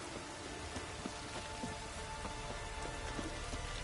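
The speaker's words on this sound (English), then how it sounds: "It's raining." Steady rain patters on surfaces in The Witcher III, a dense even hiss with scattered individual drops, with no voices heard.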